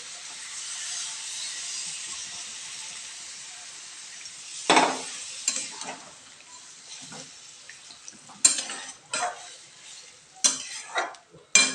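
A steady sizzle fades from a pan of spices on the stove, followed by scattered scrapes and clinks of stirring as water from a spice bowl goes in and everything settles to a quiet simmer.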